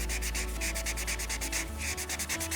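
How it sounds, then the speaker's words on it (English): Sandpaper rubs lightly back and forth over painted wooden furniture, producing close, rhythmic scratchy strokes in a quick, steady series with no talking. "So taking the sandpaper and just very little pressure,"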